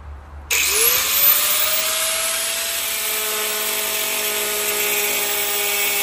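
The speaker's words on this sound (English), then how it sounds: "we'll go ahead with the grinder and cut all the excess flaps off so we can clean it up a little bit" Angle grinder cutting off excess fender flaps on a Nissan 180SX Type X, starting abruptly and then whining steadily and loudly at a high pitch, with a descending tone as it spins up and settles.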